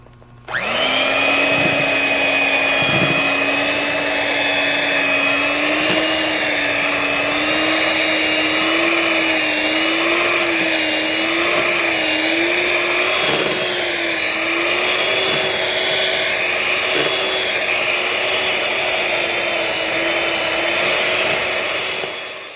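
An electric mixer beats gingerbread cookie dough with spices such as cloves, giving a loud, steady motor whine that runs unbroken for about twenty seconds, its pitch wavering slightly as the beaters work the dough.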